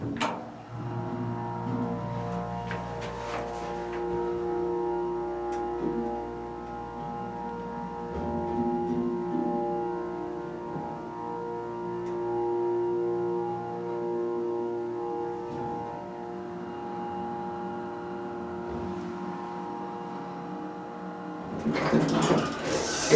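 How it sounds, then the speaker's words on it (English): A Dover hydraulic elevator starts up and runs with a steady low hum and faint mechanical whir that hold for about twenty seconds, followed by a louder rattling burst at the end. "we're going to start up the elevator in 3, 2,"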